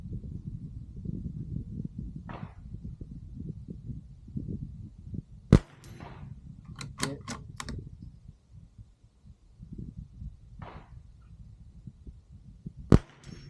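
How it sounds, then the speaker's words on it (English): A Bergara BMR rifle fires at a steel plate 50 yards away: two sharp, brief shots about seven seconds apart stand out over a low background rumble, with no talking. "Just going to shoot the plate."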